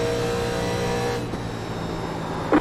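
A 1987 Legends NASCAR race car in an iRacing simulation at Texas screams past, its engine tone sliding down as it recedes, with steady race-engine drone underneath.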